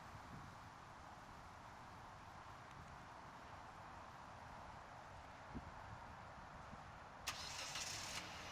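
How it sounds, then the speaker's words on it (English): A 2010 Hyundai Elantra GL starting up by remote starter, its engine settling into a faint, steady idle heard from a distance, with a brief click and a sharper burst near the end. "Our Elantra GL has a remote starter, and here's the remote control for it."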